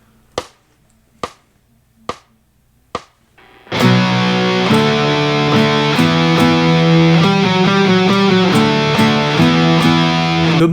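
A minor third interval played on a heavily distorted electric guitar, preceded by four sharp, evenly spaced clicks; the loud, sustained interval then rings through several restruck repetitions.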